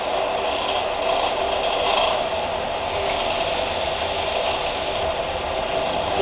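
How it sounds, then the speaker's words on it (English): A continuous, loud, rough grinding drone as a primitive arrowhead is ground straight and level, steady throughout with a buzzing, rattling texture and no voices. "You want to make sure you grind it straight and as level as you can get it."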